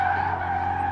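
A standard road car drifts through a corner, its tyres skidding in one loud, steady, unbroken squeal with a low engine drone beneath.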